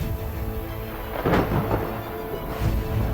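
Thunder from lightning strikes rolls low and heavy through steady rain, with a couple of deeper rumbling swells rising over the constant downpour.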